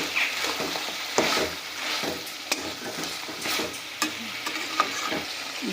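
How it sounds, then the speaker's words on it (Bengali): Ginger-garlic paste fries in a pan for a chicken curry, a steady hiss of sizzling broken by scraping stirs and a few sharp utensil clicks, close and alone with no voices. "এবার আদা রসুনের পেস্টটাকেও আমরা খুব ভালোভাবে ভেজে নেব।"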